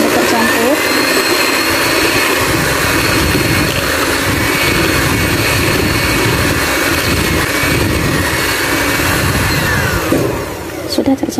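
An electric mixer whirs steadily for several seconds, beating eggs and oil into a batter for a cinnamon basbousa; the motor hum is loud and continuous before cutting off near the end.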